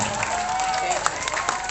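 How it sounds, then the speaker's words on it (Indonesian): Audience applause for a contestant at a provincial Islamic book-reading competition final, a short dense burst of clapping and crowd noise mixed with a voice over a loudspeaker. "Berikan tepuk tangan yang meriah buat Davi Nuron Rahman."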